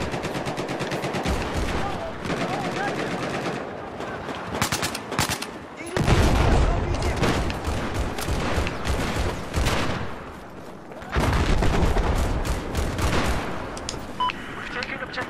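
Rapid bursts of automatic gunfire and explosions in a Battlefield 4 online multiplayer match, loud and dense, with brief lulls between volleys and voices talking over the action.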